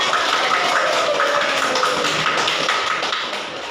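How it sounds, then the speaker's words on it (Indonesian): Classroom applause fills the room, a dense continuous patter of many hands clapping together that tapers off slightly near the end, with no talking over it. "Kita kasih aplaus dulu untuk kita."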